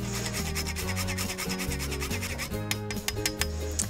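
A whole nutmeg is rubbed across a grater in quick repeated strokes, a dry scraping rasp pulsing in a fast steady rhythm, close up with no talk.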